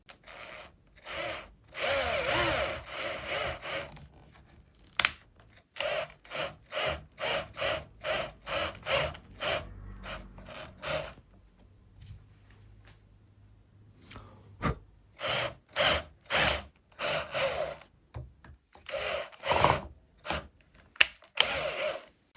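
Repeated short bursts of a power drill with a 5.5 mm bit, widening a hole in a guitar neck, starting and stopping in an irregular rhythm, loud and close, with brief quiet gaps between runs.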